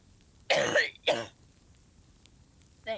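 A person imitates a cat hacking up a hairball with two harsh, throaty coughing bursts close to the mic, then a short gap and the start of another hack.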